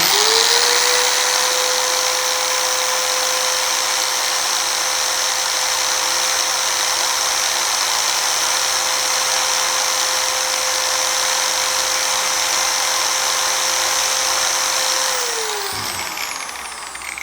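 A 450 watt XAPR AP132 angle grinder runs unloaded, spinning up almost at once to a steady high whine that holds loud and even for about fifteen seconds before winding down at the end.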